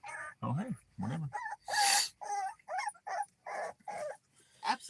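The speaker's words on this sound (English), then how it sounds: "We got crying puppies." Puppies whimper and cry in a rapid run of high, wavering yips and whines, close and fairly loud, one after another with short gaps between them.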